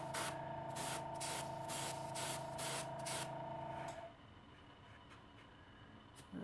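Spray paint hisses in a rapid series of short bursts onto a model coal car for weathering, close and steady for about four seconds, then stops, leaving a faint hum and a final brief spurt.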